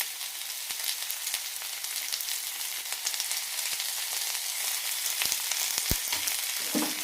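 Ginger and green chillies sautéing in a pan for a Karnataka-style coconut chutney, a steady soft sizzle with occasional scraping stirs and light clinks toward the end, no voices.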